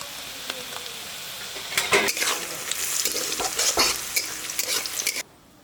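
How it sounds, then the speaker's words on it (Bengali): Chopped onion and cashews fry in a pan for chicken changezi curry, a steady sizzle broken by repeated scraping stirs that grow busier midway, then stop abruptly near the end. "পেঁয়াজ আর কাজুটা লাল লাল করে ভেজে নিয়েছি"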